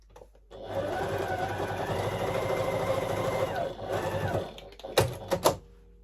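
A sewing machine stitches the front seam of a pair of jeans in one steady motor run of about four seconds, followed by a few sharp clicks as it stops.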